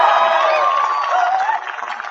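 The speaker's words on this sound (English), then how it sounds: "Give a big round of applause." Large crowd at a political rally in a high school gym cheering and applauding for Joe Biden, loud continuous roar with whoops, fading slightly near the end.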